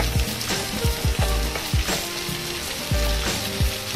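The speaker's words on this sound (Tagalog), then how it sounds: "Habang binigisa siya sa sariling mantika" Pork sizzles and fries in its own rendered fat for a pork and chicken barbecue dish. The frying is loud and steady, with repeated scraping and stirring knocks spaced through it. No one speaks.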